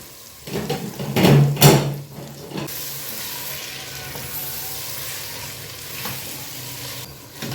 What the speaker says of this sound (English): This is cooked. I'm going to add the beans in.